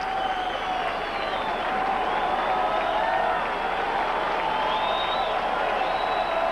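A crowd of about 23,000 at Yankee Stadium cheers steadily during a 1998 Yankees–Rangers baseball game, a continuous roar of voices and applause with whistles rising over it, building slightly as fans stand.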